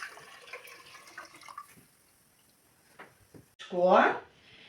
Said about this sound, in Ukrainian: Вливаємо трішечки водички, вливаємо молочко.